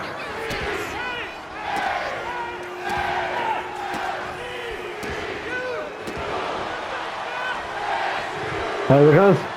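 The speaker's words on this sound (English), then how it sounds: "Andre Chase has got the crowd on his side here." Arena crowd noise from a WWE 2K25 wrestling match, a steady roar of cheering that swells in places beneath continuous commentator speech, with occasional sharp slams from the ring.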